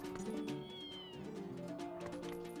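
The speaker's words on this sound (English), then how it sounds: "But the cats will kind of walk up to you too" Cats meow in The Legend of Zelda: Twilight Princess, a couple of drawn-out rising and falling calls close by over a steady game music bed, with no talk.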